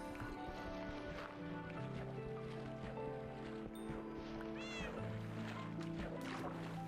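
A cat in a Minecraft game gives a short meow amid game background noise and music, fairly faint and brief.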